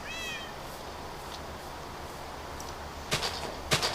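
A Minecraft cat gives a short, faint meow at the start, followed by a low background hum and a few brief clicks and taps toward the end.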